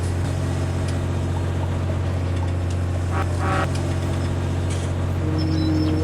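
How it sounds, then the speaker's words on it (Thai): A smooth, steady vehicle engine idle in Farming Simulator 19 hums continuously, with faint clicks and brief higher tones drifting over the constant low drone. "แต่คันนี้เสียงเครื่องนิ่มมากเลย"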